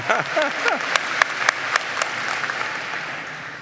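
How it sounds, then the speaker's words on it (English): A commencement crowd applauds staff members at a university graduate ceremony, steady dense clapping with a few brief voices or cheers at the start, fading toward the end. "give them a round of applause"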